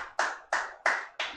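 A child claps hands four times in a steady, even rhythm, each clap crisp and close with a short fading tail, alone without talk.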